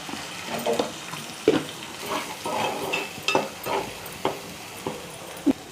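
Chili powder stirred and fried in a pan, a soft background sizzle with irregular clinks and scrapes of the spoon against the pan, close and fairly quiet.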